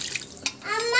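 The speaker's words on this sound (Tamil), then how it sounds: "நான் வந்து தண்ணி போடுறேன்." A brief splash and trickle of water being poured into a cooking pan, close by, lasting about a second.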